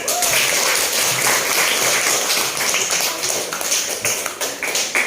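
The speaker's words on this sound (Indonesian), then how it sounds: "Tepuk tangan." Students in an Islamic religious education classroom in Banda Aceh clap their hands together, a dense run of quick, sharp claps that stays loud and steady for about five seconds with no talking.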